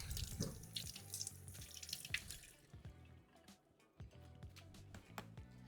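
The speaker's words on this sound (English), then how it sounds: "Always wash your green onions just like we did the last ones." Green onions rinsed under a running kitchen faucet, a steady splashing stream broken by uneven spatters and drips as the stalks move through the water, fairly quiet and close.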